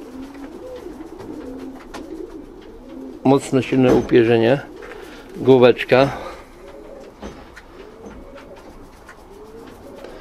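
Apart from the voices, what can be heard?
Janssen racing pigeons cooing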